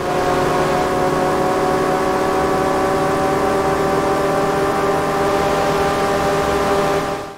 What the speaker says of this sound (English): You can hear the road noises from tires and whenever you're slipstreaming behind another opponent.